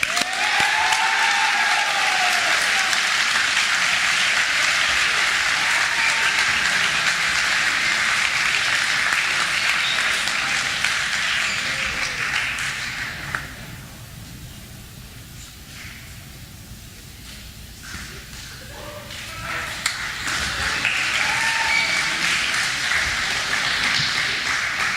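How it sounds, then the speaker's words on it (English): Audience at a high school senior assembly applauds, sustained dense clapping that dips to quieter scattered claps midway, then swells again to full applause. "Give a round of applause to Denali Roach."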